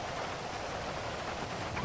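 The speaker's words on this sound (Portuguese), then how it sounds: "deixa eu sair da chuva que o bagulho tá louco aqui" Steady heavy rain pours in GTA V roleplay, a dense even hiss of falling water filling the whole stretch without pause.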